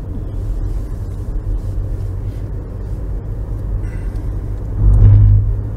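A car drives along a county road in Webster County, Georgia, with a steady close engine rumble and road noise that swells louder near the end.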